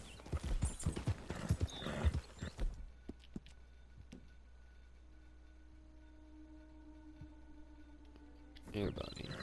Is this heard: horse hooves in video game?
yes